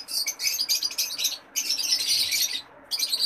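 Lutino breeder birds in an aviary give dense, high chirping and twittering in bursts that carry on almost without a break, close and fairly loud, with two short gaps.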